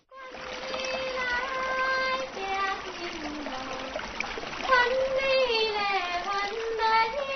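Water wheels turn in a stream at Bamei, splashing and trickling steadily as they lift water to irrigate the fields, with a constant watery wash that runs throughout, while people's voices and singing carry faintly in the background.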